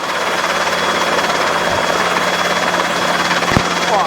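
A Robinson R22 helicopter drones steadily nearby with a loud, continuous rotor thrum and engine whine, holding constant in a hover without moving away.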